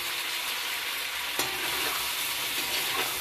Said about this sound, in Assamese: এইটো চাইডে মোৰ মাংস ভাজা হৈ আছে।